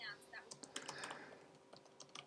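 Fingers tap quickly on a computer keyboard, producing a quiet, irregular run of close key clicks.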